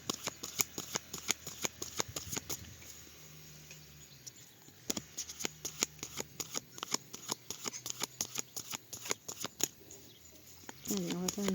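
A deck of tarot cards is cut and shuffled by hand, producing a run of crisp, irregular flicks and riffling taps, close and fairly quiet, with a soft murmured voice in places.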